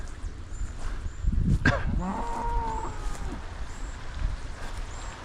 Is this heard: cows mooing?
yes